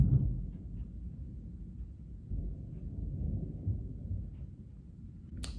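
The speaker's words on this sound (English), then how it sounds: "Do you hear that thunder?" A low, distant rumble of thunder rolls on continuously, deep and muffled, swelling slightly in the middle before fading.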